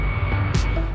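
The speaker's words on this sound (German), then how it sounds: "Auch nach der Pandemie landen weiterhin Militärmaschinen." A military aircraft lands at Frankfurt airport, its engine roar loud and steady throughout a brief stretch of sound.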